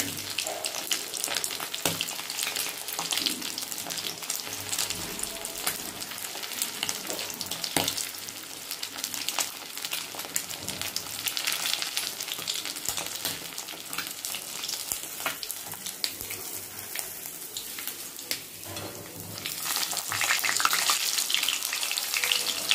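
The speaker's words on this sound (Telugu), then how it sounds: "ఇట్లా ఈ పక్క కూడా మంచి కాలుతుందండి" Chapala fish fry in hot oil in a pan with a long, even sizzle and crackle, close and steady throughout, with faint handling noises and no talking.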